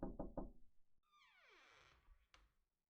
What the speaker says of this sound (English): I got out of my car and knocked on the door.